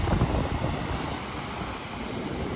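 Wind buffeting the microphone on a misty morning outdoors, a steady rumbling roar with gusts at the start and no talking.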